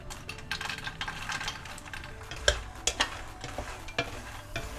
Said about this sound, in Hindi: मखाना को हम मीडियम फ्लेम पे रोस्ट करेंगे।